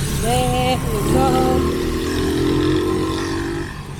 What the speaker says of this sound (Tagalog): Daming motor-motor, guys.